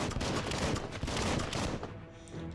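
A burst of rapid gunshots in Biomutant, steady and fairly quiet, lasting a couple of seconds before trailing off into a softer tail.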